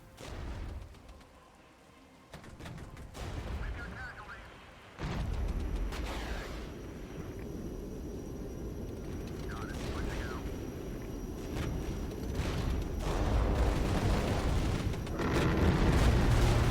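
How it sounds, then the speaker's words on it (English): Gun-run airstrike in the Regiments combat game: a heavy booming barrage of explosions and strafing fire builds into a sustained rumbling roar that grows louder toward the end. "And let's do another gun run."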